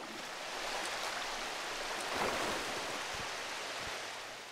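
Flowing stream water in the video game Darksiders 2: a steady, broad rushing wash of water that swells slightly midway, continuous and fairly close, with no talk over it.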